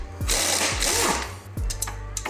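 A ratchet wrench loosens the bolts holding the differential of a 2014 Arctic Cat 1000, rapid close clicking in a few quick bursts with short pauses between strokes.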